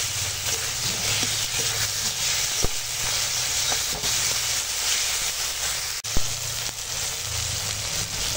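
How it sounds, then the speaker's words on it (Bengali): Ginger-cumin paste, salt and turmeric are sautéed in a pan as the base for a fish curry, making a continuous hissing sizzle with occasional scraping clicks from stirring. "ভালো করে কষাবো।"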